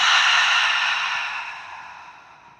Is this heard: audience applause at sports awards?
no